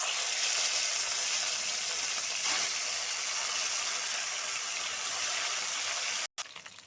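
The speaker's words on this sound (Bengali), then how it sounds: "এবার আমি মাছগুলো ভেজে নিচ্ছি দিয়ে দিচ্ছি তেলের মধ্যে মাছ" Rohu fish fries in hot mustard oil with a steady, even hiss and crackle that continues throughout, then briefly cuts out near the end.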